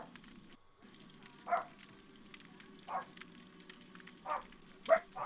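Dogs bark in a room, short single barks spaced about a second apart, moderately loud over a low constant background hum.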